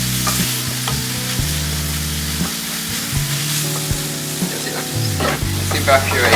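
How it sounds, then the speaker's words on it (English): Beef mince fries in its own oil in a pan, a loud continuous sizzle with repeated clanking spatula strokes and scraping as it is stirred and cooked down to dry out. "I make it cook down now because there's still some oils in there, but I want the mince to dry out as much as possible"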